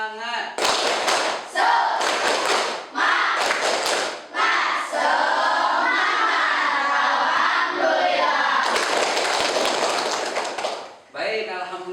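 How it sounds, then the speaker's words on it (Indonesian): Classroom of students performing the 'tepuk semangat' clapping chant, with bursts of rhythmic claps and thumps mixed with loud group chanting voices, close and energetic throughout. "Kalau semangat, bagaimana tepuk semangatnya?"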